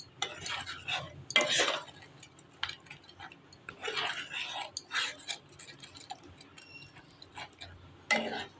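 A spoon stirs potatoes with salt and turmeric in a pan, giving intermittent scraping and clinking strokes over a faint sizzle, close and moderately loud, with no one speaking.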